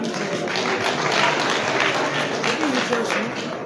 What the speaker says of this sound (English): please clap for him